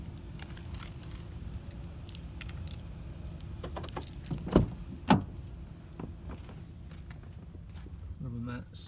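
Car keys for a Ford Raptor truck jingle and clink in short bursts over a low vehicle hum, with a couple of sharper metallic jangles midway, close to the microphone.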